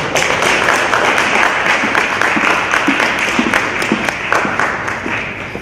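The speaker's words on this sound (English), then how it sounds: "Give her a round of applause." An audience at a YMCA Black History Month proclamation event gives Claire Carey a loud, steady round of applause that continues for several seconds with no talking.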